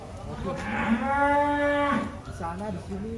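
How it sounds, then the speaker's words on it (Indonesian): One of the giant cattle in a Wonosobo cattle barn lets out a loud, close moo lasting over a second, followed by a shorter, wavering second call, with faint background noise around it. "Gimana Mas Amin nih lihat sapi sebesar ini?"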